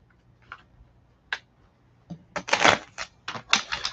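Gilded Reverie Lenormand cards being shuffled, starting with a few sparse soft flicks and building into a dense run of crisp riffling bursts near the end, close and alone with no talk.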